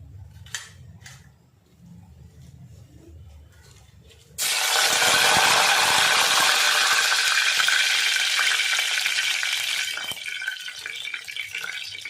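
After a few quiet seconds, spices and leaves hit hot oil in a tempering for a potato curry, with a sudden loud, steady sizzle that crackles on and eases slightly near the end.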